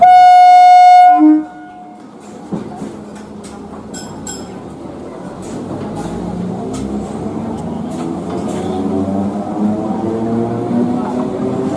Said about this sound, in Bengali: হর্ন বাজিয়ে ট্রেনটা আবার চলতে শুরু করলো।